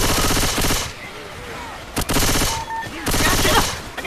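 Rapid bursts of automatic gunfire in Left 4 Dead, loud and close, in two long volleys with a quieter stretch between, with faint voices underneath.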